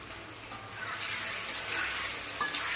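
Potatoes fry with salt in a pan, sounding as a steady broadband sizzle with occasional stirring scrapes, close and continuous with no voices.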